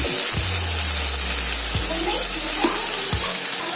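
Brinjal (eggplant) fries in a covered pan, a steady close hiss of oil and moisture with a few soft knocks or stirs breaking through, no talk.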